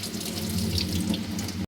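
Tap water gushes steadily onto roasted moong dal being washed in a kitchen, a loud, continuous splashing rush that stops abruptly.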